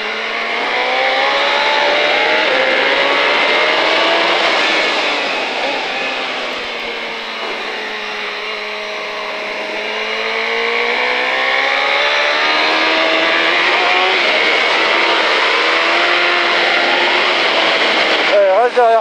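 A 2005 KTM Superduke motorcycle accelerates hard around the Pau circuit, its engine note climbing and falling in long sweeping revs, loud and close throughout, with a voice talking over it.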